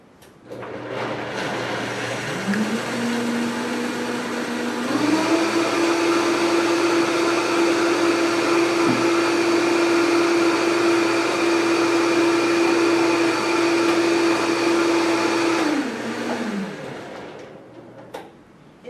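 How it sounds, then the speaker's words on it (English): A blender motor whirs up, runs at a steady high-pitched drone for about ten seconds, then winds down to silence. "And so you just put everything in the blender."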